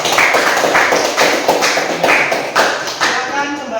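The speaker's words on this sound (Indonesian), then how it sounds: "Kita berikan tepuk tangan untuk kelompok" Students in a classroom clap for a presenting group, a loose scatter of hand claps and taps with distinct beats across a few seconds, fairly close and moderately loud.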